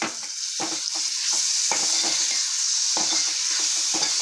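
Green masala paste and a chopped tomato are sautéed in a pan, giving a steady sizzle broken by repeated scraping stirs of the spoon at an irregular rhythm, close by, with no talking.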